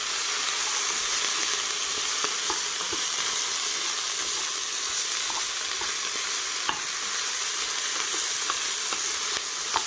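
Brisket chili ingredients frying over medium-high heat, a steady loud sizzle with occasional stirring scrapes and taps in the pot, close up and with no voices.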